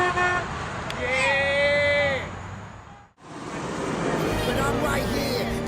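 Passing cars and trucks sound their horns along a roadway, a long toot early on over the traffic rumble, with people talking nearby.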